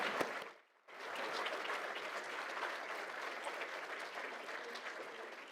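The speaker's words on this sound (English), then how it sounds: "If everybody could give a big round of applause to Anne," An audience at an AI awards ceremony applauds presenter Anne Sheehan, with sustained clapping from a crowd that swells after a short pause and continues steadily at moderate level.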